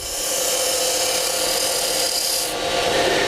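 Gentle finishing cuts on spinning wood while turning a cove on a lathe, a steady soft scraping hiss that stays even and close, slightly easing near the end, with no talk.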